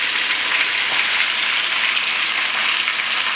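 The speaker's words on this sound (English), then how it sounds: "I'm going to be adding the vegetables to everything. I usually like to start with the onions." Onions frying in a pot of pot-roast drippings, giving a loud, close, steady hiss and crackle with no voices over it.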